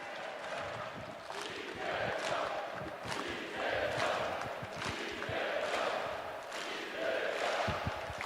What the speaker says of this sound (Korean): 다시 한번 뜨거운 박수와 함께 이재명을 연호해 주시길 부탁드리겠습니다